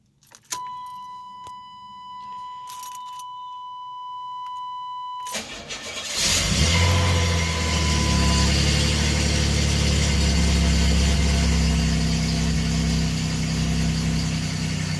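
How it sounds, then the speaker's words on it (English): A 1989 Chevy Celebrity with a 2.8 V6 cranks briefly after some quiet clicks and a steady beep, then catches and settles into a loud, steady idle that continues for the rest of the clip. "So let's go ahead and fire it up."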